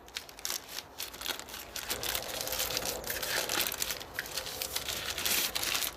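A DJI Mavic 3 drone battery being unwrapped from a sealed rubberized bag, giving steady close crinkling and crumpling of plastic that runs continuously without talk.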